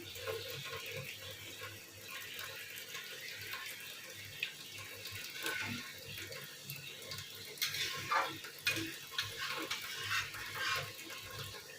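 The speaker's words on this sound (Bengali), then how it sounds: "এবার একটু জল দেব।" Water poured into a cooking pan, a steady faint splashing trickle with small gurgles and clinks, fairly quiet and running throughout with no talk over it.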